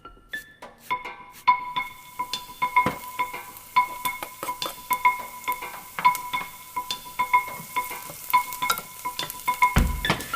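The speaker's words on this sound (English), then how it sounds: "Okay, you have your onion and your garlic sizzling." Onions and garlic frying in a hot pan, a steady crackling sizzle with scattered pops and a faint ringing tone, close by with no talking.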